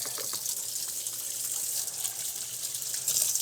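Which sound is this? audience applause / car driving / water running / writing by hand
water running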